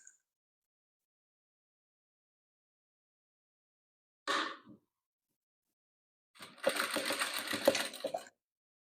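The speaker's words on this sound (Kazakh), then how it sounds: "Енді осыларды да тігіп аламыз." A sewing machine stitches rows of a patchwork quilt together, with a brief whir followed by a steady, close run of about two seconds of rapid needle clatter in an otherwise quiet room.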